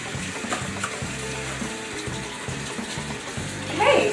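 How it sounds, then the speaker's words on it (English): Household faucet left running, a steady low wash of flowing water filling the background, close and moderate in level, with faint clatter and a slight rise near the end. "why are you leaving your faucet on?"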